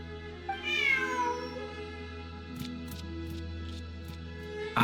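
A cat meows in Genshin Impact: one drawn-out, rising-then-falling meow near the start over a steady game soundtrack hum, followed by faint ticking clicks.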